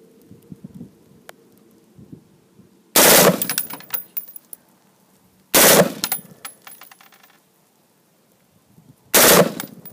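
A machine gun at a Las Vegas shooting range fires three short, very loud bursts a few seconds apart, with quiet gaps and faint clinks of spent casings between them.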